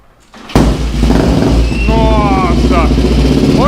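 A Honda Titan 353cc motorcycle with a stainless steel exhaust fires up abruptly and settles into a loud, deep idle, then revs up several times with rising whine, close to the microphone.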